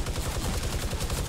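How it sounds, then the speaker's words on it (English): Rapid automatic gunfire in a Fortnite Battle Royale match near Pleasant Park, a fast rhythmic burst of many close, loud shots packed tightly together. "There's a dude at treehouse too shooting at us"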